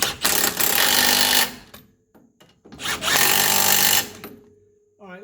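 Pneumatic impact wrench running down bolts on a 1983 Mercedes 300D front suspension: two loud, sustained bursts of rapid hammering, each about a second and a half long, with a short quiet gap between them.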